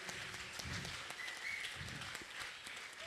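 An audience at the Swiss Ragam Paadiing Paadiing 2016 music event applauds two musicians taking the stage, a faint, distant, continuous patter of clapping with no pause.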